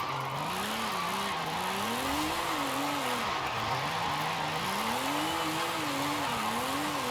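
A car engine in Forza Horizon 5 drones at low revs, its pitch repeatedly rising and falling in smooth surges against a steady road and wind rush, with no talk.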